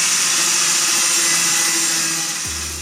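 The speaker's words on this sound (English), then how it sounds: "Now I'm going to clean it up with my grinding wheel." An angle grinder's abrasive wheel trims the front fender of a third-generation Toyota Tacoma, a steady high whine running loud and continuous before the motor drops off near the end.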